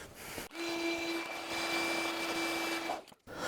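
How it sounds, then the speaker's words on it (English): A vacuum cleaner runs steadily, cleaning dirt off a 1969 Jeep Gladiator pickup, its high whine holding a constant pitch before cutting out near the end, fairly faint and alone. "I'm going to vacuum all that off though, because that's nasty."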